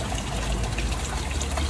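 Water trickles and pours steadily from a Honda Civic V-TEC engine's cooling system, a close, continuous splashing stream with no talk.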